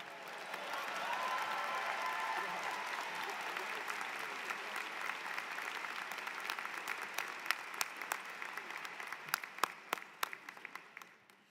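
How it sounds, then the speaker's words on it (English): Applause from a graduation ceremony audience for an online undergraduate business and STEM program, a steady crowd clapping that swells early, then thins into scattered, distinct claps before fading. "Another round of applause for Riccardo."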